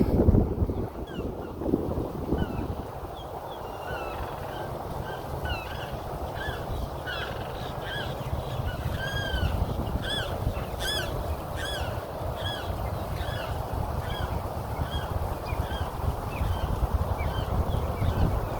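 Many short bird calls and chirps repeat by a lake in Florida, set against steady wind and a low rumbling outdoor background.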